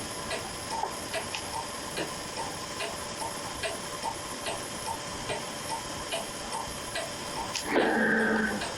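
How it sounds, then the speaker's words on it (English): A cuckoo clock ticks steadily at roughly two beats a second, close and fairly quiet, and near the end a brief brighter chirp-like sound rises over the ticking. "A cuckoo clock in all its glory."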